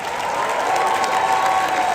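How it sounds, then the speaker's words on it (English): An audience at a Halloween Horror Nights panel applauds and shouts for the staff crew, with a steady, dense wash of crowd clapping and cheering throughout. "please give a big shout and applause for our white bat crew"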